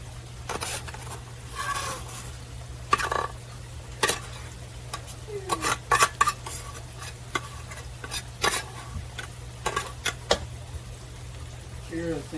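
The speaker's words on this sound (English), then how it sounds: "So we just want to get the rice out of our rice cooker" Yellow rice being scooped from a rice cooker, scattered scraping taps and clicks of a spoon against the pot in an irregular rhythm over a steady low hum, close and fairly quiet.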